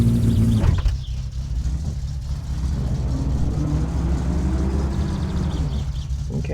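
A car engine in the driving game My Summer Car, a steady low rumble that swells briefly at the start then settles into a continuous drone as the car moves off.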